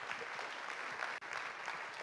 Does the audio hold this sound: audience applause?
yes